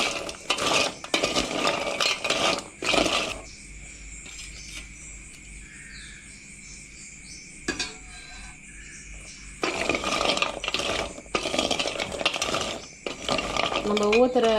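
Sugar syrup being stirred into sweet cheepu seedai in a metal pan, with clattering, scraping metallic stirring bursts at the start and end around a quieter middle stretch.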